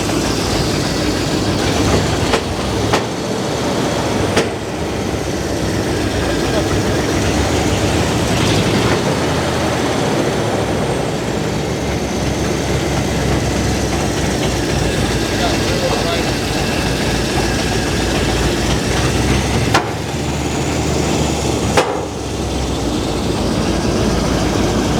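A big block V8 runs at a steady, rumbling idle close by, a continuous low drone with a few brief dips, while people talk over it.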